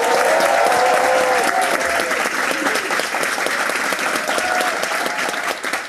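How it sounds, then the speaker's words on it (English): A studio audience applauding, loud and close, with steady dense clapping and a few cheers that carry on without a break. "I think that's probably the most enthusiastic applause I've ever received"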